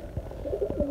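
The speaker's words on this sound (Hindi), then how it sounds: "कुछ कबूतर ऊपर बैठे हुए हैं और कुछ नीचे हैं" Pigeons coo softly and close by as they gather to be fed, with a few short throaty coos over a brief moment.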